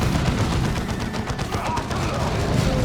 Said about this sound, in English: Those freaking tarantula turrets.